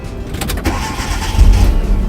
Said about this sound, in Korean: 5초 내에 엔진 시동을 거세요